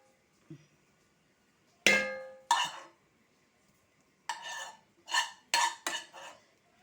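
Sautéed prawns are added into a pot of prawn masala: a soft tap, then several loud clattering bursts of metal against the pot with brief quiet gaps between them.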